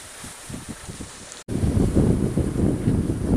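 Steady wind roars across a sailboat at sea in the Mediterranean, blowing around 15 knots. The noise is moderate at first, then swells into a loud, gusty rush after a brief dropout and holds there to the end.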